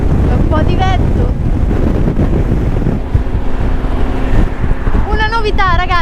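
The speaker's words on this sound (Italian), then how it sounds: "c'è un po' di vento." Loud wind buffets the microphone throughout, a constant rumbling roar in Sweden, while a voice speaks and some tonal whistling or singing rises near the end.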